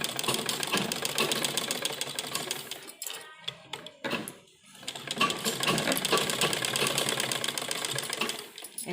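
An electric sewing machine stitches kurta fabric in rapid, steady whirring bursts, loud and close, with a short pause in the middle before the stitching resumes; nobody speaks.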